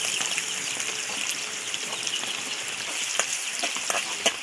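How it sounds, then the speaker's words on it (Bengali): Onions frying in hot oil in a wok, a dense, steady sizzle with small crackling pops, close and loud with no voices. "আমার পেঁয়াজ ভাজা হয়ে গেছে"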